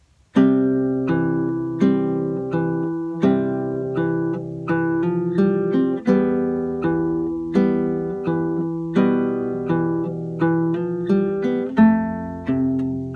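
The full introduction of a song rings out on acoustic guitar: a flowing, evenly paced run of plucked single notes and open strings, played close with no voice.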